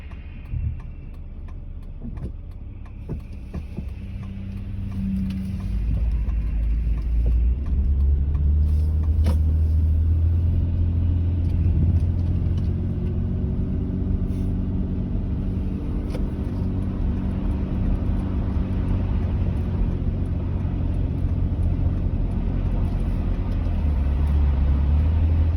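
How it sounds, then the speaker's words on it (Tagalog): Many cars and other vehicles drive along a road during a winter storm, making a heavy continuous low rumble of engines and tyres that swells as vehicles pass close by. "marami pa rin talagang sasakyan kahit ganito ang weather"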